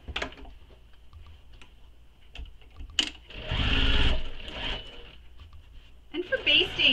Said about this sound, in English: baste this across the whole edge of the zipper.